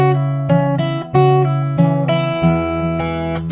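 Fingerpicked acoustic guitar playing a phrase from a song in open D tuning, with clear plucked notes ringing in a steady rhythm, close and solo with no talking.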